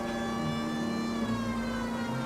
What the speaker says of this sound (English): You hear sirens, you move.